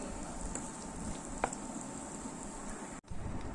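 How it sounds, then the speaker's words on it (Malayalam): Small onions and green chillies sauté in a pan for ulli theeyal, giving a soft steady sizzle with an occasional stir, close and low in level, cutting off briefly near the end. "ഇതുപോലെ നന്നായിട്ട് വഴറ്റിയെടുക്കണം."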